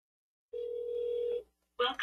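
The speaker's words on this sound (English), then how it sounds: "we'll make another quick test call" A single steady telephone tone sounds for about a second during a SIP trunking test call, followed by a brief burst of other signal sound, clean and close against silence.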